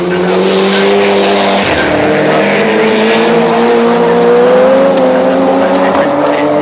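Racing cars, among them a Seat, roar loudly around the Oulton Park circuit with a sustained engine whine that dips and climbs again, while a commentator talks over the noise.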